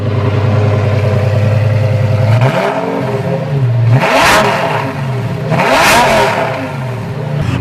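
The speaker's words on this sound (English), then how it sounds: "If you wouldn't mind, could you rev it real quick?" A Lamborghini Gallardo with a titanium exotic exhaust, heard close and loud, idles and then is revved hard twice, each sharp climb screaming up before falling back to a rumbling idle.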